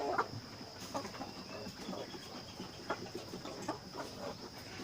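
A flock of 18-week-old Hisex Brown laying hens clucks and murmurs nearby, with soft, overlapping calls and occasional louder clucks in a steady chatter.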